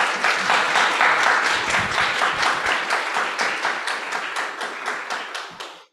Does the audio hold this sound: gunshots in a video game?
no